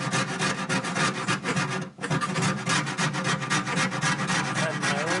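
A sharpened hacksaw blade scrapes rust off the door of a 1966 Ford Mustang in steady, loud, close rasping strokes, broken by one brief pause.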